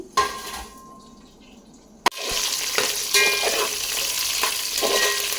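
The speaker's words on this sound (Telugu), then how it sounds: "ఇవన్నీ కూడా కొంచెం వేగాలండి ఒక టూ త్రీ మినిట్స్ టైం పడుతుంది" Onions, cumin, mustard seeds, dried and green chillies and curry leaves fry in hot oil and ghee, giving a steady close sizzle that swells after a sharp clink partway through, with spoon stirs and scrapes throughout.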